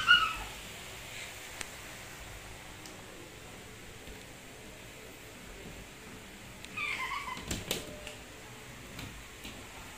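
A cat playing with a ball gives a brief meow at the start, then quiet rustling and light ticking noises, with a burst of scuffling and thumps near the end.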